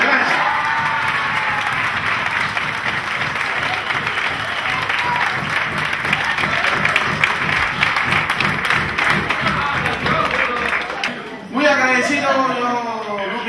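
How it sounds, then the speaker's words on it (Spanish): Loud, sustained audience applause for a performer on tour in Europe, a dense wall of clapping and cheering that fills most of the stretch before cutting off abruptly, followed by a voice speaking near the end. "son los aplausos más fuertes que he recibido en toda mi vida"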